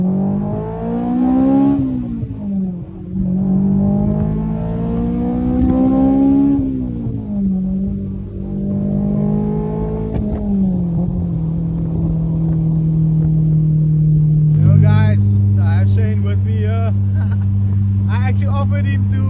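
A Honda S2000 driving and accelerating, its engine rising and falling through several rev sweeps before settling into a steady drone, heard from inside the car with a voice talking over it.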